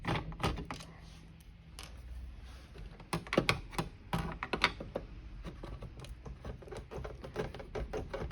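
Screwdriver backing Phillips screws out of a 12-inch RC Dalek toy during a teardown, a close, quiet series of small creaks, clicks and scrapes at an uneven pace.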